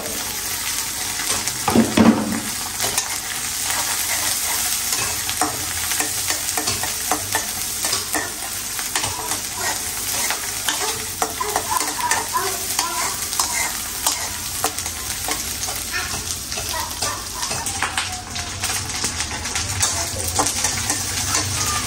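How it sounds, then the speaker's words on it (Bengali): Shrimp are added to a hot pan of tempering and sizzle loudly, with a spoon scraping and stirring in repeated strokes over a steady frying crackle at close range. "এখন হলো আমি চিংড়ি দিয়ে দিচ্ছি"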